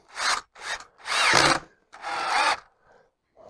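A power drill driving a screw into a wooden door frame, heard as several close, loud whirring bursts of differing length with short pauses between them.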